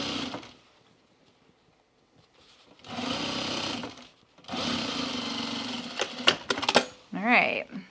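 A sewing machine stitching trousers runs in two close, loud bursts of rapid mechanical whirring and clatter, separated by quiet, with a few sharp clicks and a short pause at the end.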